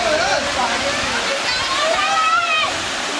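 River water in Jharkhand flowing toward Patratu Dam, a steady broadband rush heard close and continuous, with a faint whistle-like tone drifting over it.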